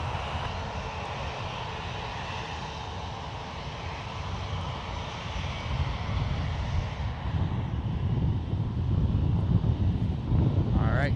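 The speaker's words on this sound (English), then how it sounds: "here is Qatar, the A350 coming in from Doha. Just about to land here on the 28." Qatar Airways Airbus A350 in from Doha touching down on runway 28 at San Francisco International Airport, a steady distant jet roar with wind buffeting that swells louder toward the end.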